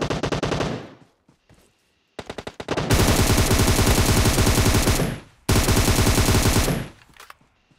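Rapid automatic gunfire from the mobile game PUBG Mobile comes in loud, close bursts: a short one, then a long sustained volley, and another burst after a brief pause.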